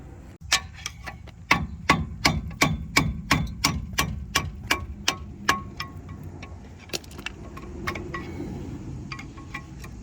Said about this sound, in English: It's stuck. I have to get a hammer.